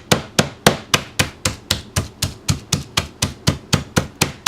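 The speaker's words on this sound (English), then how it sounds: "I'm going to hit them a few times to kind of flatten them out" Raw chicken strips wrapped in cellophane being pounded flat: a fast, even series of about sixteen sharp, close thuds in a steady rhythm, with nothing else heard.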